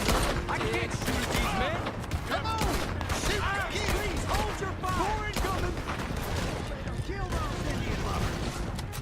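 A dense, continuous gunfight in Red Dead Redemption 2, with steady crackling shots and shouting voices throughout the battle.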